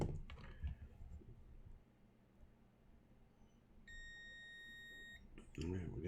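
A multimeter's continuity beep sounds during repair of a Sundown Audio SAZ-3500D amplifier: one steady, clear tone held for over a second, with quiet handling noise and low hum before and after.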